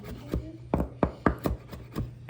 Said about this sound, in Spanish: Se trincha bien chiquitico